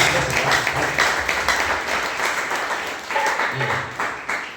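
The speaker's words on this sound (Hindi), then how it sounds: "जोर से ताली" Loud, sustained applause from a crowd at a public meeting, dense clapping that swells and continues steadily throughout.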